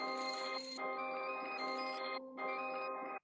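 A dry FL Studio one-shot beat sample with no effects: a bright, bell-like synth tone sustained in steady notes with brief dips, moderately faint and alone.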